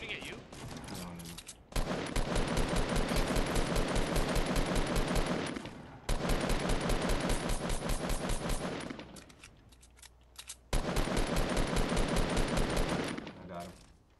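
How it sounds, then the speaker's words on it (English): Automatic weapons in Fortnite rattle off in three long, rapid bursts, loud and close, separated by brief pauses, with a few muffled voices between the volleys. "They're shooting at you?"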